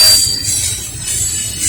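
A Norfolk Southern westbound intermodal freight train passes in Lynchburg, Virginia, with a steady high, hissing wheel squeal over a low rumble of rolling railcars, close by and continuous.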